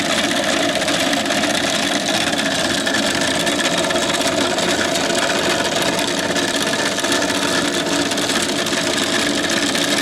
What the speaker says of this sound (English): this is the first time those gears have turned, so it's a little noisy